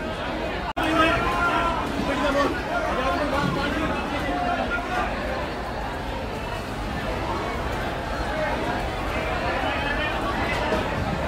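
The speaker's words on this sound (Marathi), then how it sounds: "ॲक्च्युली इथे खूप गर्दी आहे, त्याच्यामुळे खूप म्हणजे खूप मोठी गर्दी आहे." Dense hubbub fills Bhaucha Dhakka wholesale fish market in Mumbai, with many voices chattering at once, shuffling movement and a brief knock early on, while someone speaks steadily over the crowd noise.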